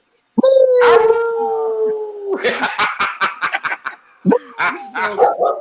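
A dog howls in a long, wavering tone, then breaks into a run of short yips and barks, close by and loud, with a brief pause before more yelps.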